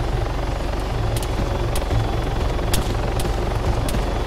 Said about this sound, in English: Hello, guy laying down trying to kill my chopper.